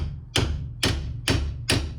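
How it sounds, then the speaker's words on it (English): A hammer knocking on a jammed front suspension part of a Peugeot 106, four sharp metallic thuds at an even rhythm about half a second apart, close and loud. "You have to carefully get your hammer and knock it up"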